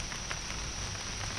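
Steady rain falling on a surface, a soft even patter with faint scattered drop taps, quiet and continuous with no talk.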